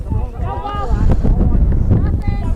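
Low, blustery rumbling of wind buffeting a microphone at a cool, windy softball game, steady throughout, with someone talking over it.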